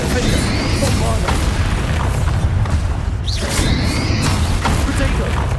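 Spell explosions in Hogwarts Legacy, with repeated booms and bursts crashing one after another in a dense, loud fusillade while a voice calls out over the blasts.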